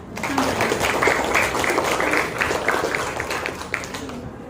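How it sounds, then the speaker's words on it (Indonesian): Students in a mathematics classroom applaud their teacher, a steady burst of clapping from many hands lasting several seconds at moderate loudness, with faint voices mixed in. "Tepuk tangan dulu"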